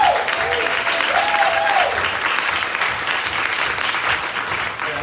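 Sustained applause fills a room at a San Francisco Democratic Party monthly meeting, a dense, loud wash of many hands clapping together, with a brief voice or whistle near the start.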